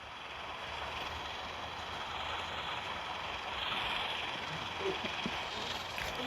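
A train running in the Roblox rail game Incorail gives off a steady, continuous rolling rumble with a broad hiss, holding an even level throughout without distinct clacks.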